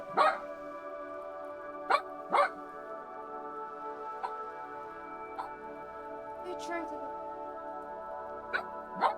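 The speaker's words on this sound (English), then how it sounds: "She's barking on a carpet. Probably at me." A dog barks indoors on a carpet in several short, sharp bursts spaced a few seconds apart, fairly close, over a steady tonal music-like background with some faint voice present.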